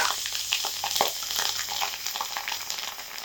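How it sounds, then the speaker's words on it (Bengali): Cumin seeds and green chillies sizzle and crackle in hot oil, a steady close frying hiss with small pops, heard on its own without talk. "গরম তেলের মধ্যে জিরে ফোড়ন দিয়ে দেব।"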